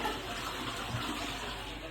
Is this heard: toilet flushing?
yes